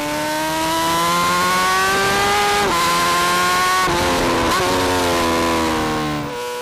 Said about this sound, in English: On the home stretch, Teuchert really opens up the 1000cc motor.